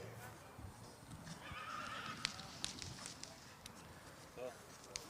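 A Friesian horse at an outdoor breeding show whinnies amid faint hoof clip-clops, all set against an announcer's voice talking over a loudspeaker.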